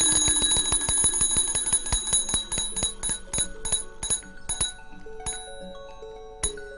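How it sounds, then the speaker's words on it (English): Bell rung by an early electric telegraph receiver, a rapid series of bright metallic strikes that ring out, slow down and thin into scattered dings with lingering resonance. "forcing an arm upwards, which releases a ball and triggers a bell."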